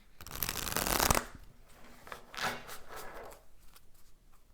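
A deck of tarot cards is shuffled close by, a long riffling burst followed by shorter flutters and soft snaps as cards are handled and drawn, fairly quiet with no talking.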